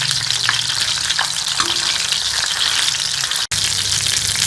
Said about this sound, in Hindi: दोनों साइडों से अच्छा सा गोल्डन होने तक हम इसे फ्राई कर लेंगे